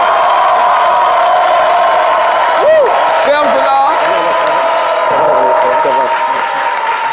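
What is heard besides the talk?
audience applause and cheering welcoming Fergola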